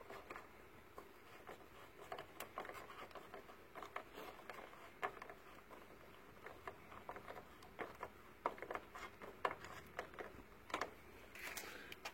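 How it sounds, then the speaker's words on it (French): A ratchet tightening a screw on a car radiator's plastic fitting, giving a quiet, irregular run of rapid clicks and short bursts of turning. "Ici, je vais renforcer un peu le serrage avec un cliquet"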